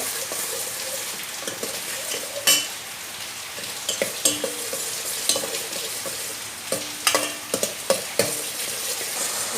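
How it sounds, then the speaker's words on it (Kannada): Onions sizzle in hot oil for palak paneer tempering while a spoon stirs and scrapes the pan, sharp metallic knocks repeating irregularly over the steady frying. "ಈಗ ಚೆನ್ನಾಗಿ ಫ್ರೈ ಮಾಡುವ."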